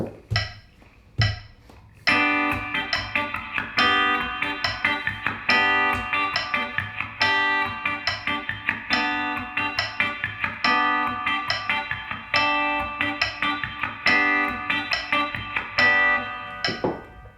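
A tight, muted guitar riff of choppy strummed chords, steady and fairly loud, with a sharp metronome click at 70 BPM ticking a slow beat underneath.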